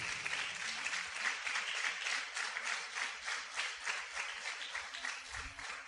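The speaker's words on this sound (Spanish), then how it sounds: "¿No le da un aplauso al Señor por eso?" A church congregation claps for the Lord during a sermon, a dense, steady round of applause with a gently pulsing rhythm, sustained and fairly close, with no talking over it.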